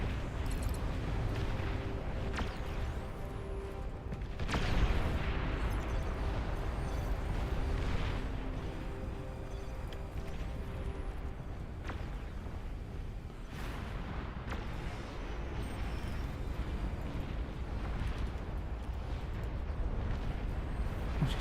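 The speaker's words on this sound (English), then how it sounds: "Just heard explosion." Explosions and artillery fire in the real-time strategy game Beyond All Reason, a continuous dense roar of booms and blasts with sharper bursts scattered throughout, loud and without speech.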